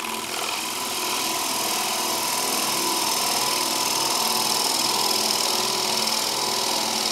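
A bowl gouge sweeps through spinning wood on a lathe. A steady, close, broadband rushing drone of motor and cutting holds evenly throughout with no pauses.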